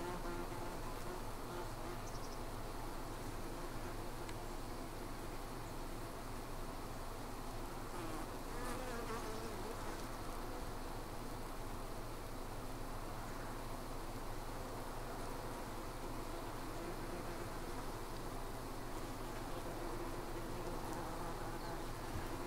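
Honey bees and yellow jacket wasps buzz steadily and densely at a hive entrance. The droning swarm holds at an even level throughout, with a faint outdoor noise floor behind it.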